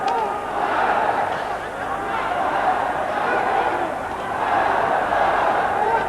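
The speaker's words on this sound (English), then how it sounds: "And the crowd signalling every punch that comes in from the champion." Crowd at a Thai boxing title bout between Sot Chitalada and Raeki Ahn, swelling and roaring in waves for the home champion's punches, a dense broad roar that rises and falls.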